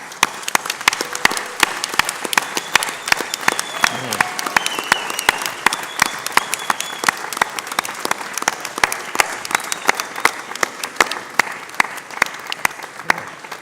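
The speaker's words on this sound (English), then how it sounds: "offer your applause to the people that have helped you on the way and the people on the stage" Graduates and guests fill a graduation ceremony hall with sustained, steady applause, dense clapping with sharper individual claps standing out near the front, continuing throughout at moderate loudness.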